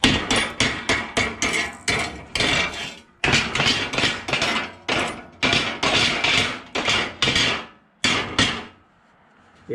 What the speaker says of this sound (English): Let's get our baller chipping hammer, slag chipper 4000